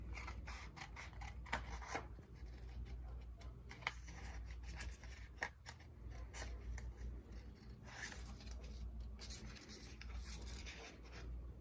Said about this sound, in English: then I just take my scissors